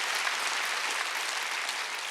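Full, continuous clapping from a church congregation at a Sunday worship service, loud and even throughout with no voices standing out.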